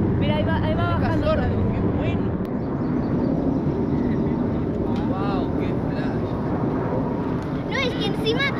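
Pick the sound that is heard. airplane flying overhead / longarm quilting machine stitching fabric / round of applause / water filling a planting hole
airplane flying overhead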